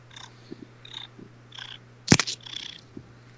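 A house cat purrs softly and close by, with a low steady rumble under faint rustling and a sharp brief noise partway through.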